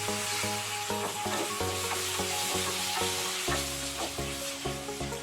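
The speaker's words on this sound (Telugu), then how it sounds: "ఉల్లిపాయ దూరగా వేగిపోయిందండి" Onion and tomato fry in a pan for a Rayalaseema-style stuffed eggplant masala curry, giving a steady, close sizzle under continuous background music.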